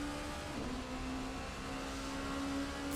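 LMP1 prototype race cars in an Assetto Corsa night race at Mugello give a steady, faint engine drone with a sustained tonal whine that shifts pitch slightly, heard continuously with no voices.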